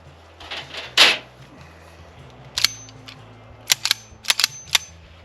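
A Kimber 1911 .45 ACP pistol being handled, producing a few sharp metallic clacks and clicks: one early, then a tight cluster near the end, close and loud against a low engine hum.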